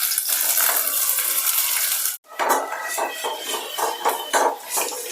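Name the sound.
okra frying in oil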